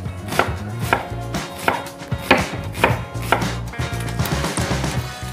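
A knife chops onions finely on a board, close and crisp, with about a dozen sharp knocks in a quick, slightly uneven rhythm and no talking.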